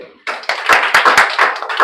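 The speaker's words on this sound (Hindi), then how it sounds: "ताली लगाइए" A classroom of students clapping their hands together, a short scattered round of claps that builds from a few slaps into a dense, uneven patter.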